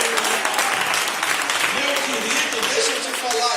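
A church congregation at an Easter Sunday service applauds, a continuous loud wash of clapping with voices mixed in throughout.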